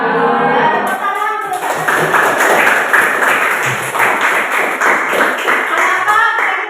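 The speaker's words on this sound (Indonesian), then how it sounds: "Ya, tepuk tangan." Schoolchildren clap their hands in an Indonesian classroom, a loud burst of quick, slightly uneven claps that starts after a moment of voices and keeps going with thuds and taps at close range.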